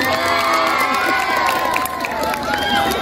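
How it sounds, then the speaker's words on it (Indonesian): Applause and cheering fill a school hall at a student council (OSIS) election debate at SMPN 1 Kapongan, loud and continuous with whoops and children's shouts layered over the clapping. "Tepuk tangan yang meriah untuk kandidat nomor 6."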